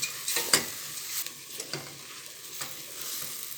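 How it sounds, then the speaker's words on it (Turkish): Red lentils sizzle and crackle softly in hot oil in a pot while being sautéed for lentil soup, with occasional scraping stirs. "Ve mercimeği de biraz kavuralım."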